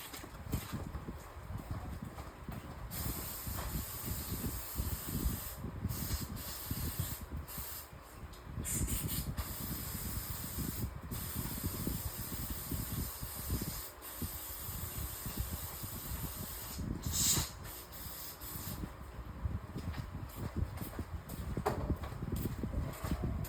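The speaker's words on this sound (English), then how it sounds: "now I'll just go clean this up with brake cleaner, really good, and wipe it off" Brake cleaner is sprayed onto a Ford 4.6/5.4/6.8 fuel injector in long, close hissing bursts with short gaps, repeated across the whole stretch.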